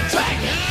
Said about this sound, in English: then we have some good old-fashioned screaming